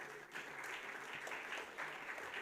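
An audience at a Rotary Club of Bombay Kandivli gathering claps after a speech, dense sustained applause from a room full of people, filling the whole moment without pause.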